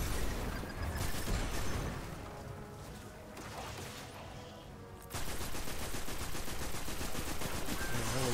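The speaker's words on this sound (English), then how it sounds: "that was a lot of bullets on that one" Sustained automatic gunfire in Destiny 2, a loud stream of rapid shots that thins out briefly midway, then resumes at full intensity in dense, even bursts.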